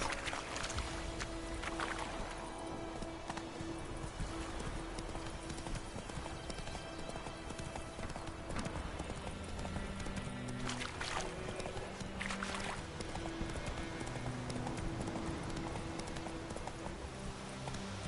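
Horse hooves clip-clop in a steady, continuous rhythm over a constant background wash, lasting throughout without talk; a horse in the video game The Witcher 3: Wild Hunt.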